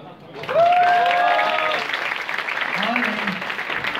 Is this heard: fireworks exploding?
no